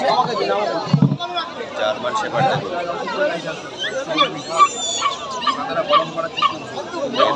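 A German Shepherd barks amid the bustle of a street pet market, its short yips and barks mixing with other dogs and dense crowd chatter as someone talks close by.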